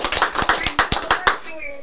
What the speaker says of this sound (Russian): Давайте подарим аплодисменты.